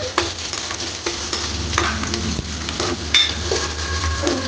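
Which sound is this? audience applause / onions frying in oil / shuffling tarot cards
onions frying in oil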